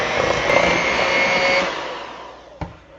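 An electric mixer whirring steadily up close through cake batter with vanilla and almond extract, a loud continuous motor drone that cuts off, followed by a single clack.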